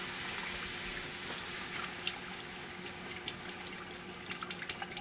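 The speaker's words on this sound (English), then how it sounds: "Now I'm going to add some beef broth." Beef broth is poured into a cooking pot of oxtails, a soft steady liquid trickle under a faint hum, with small splashes and drips toward the end and no talk.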